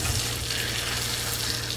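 Bread frying in butter in a pan on a tilted stove for smoked salmon canapés, giving a steady close-up sizzle with no talk.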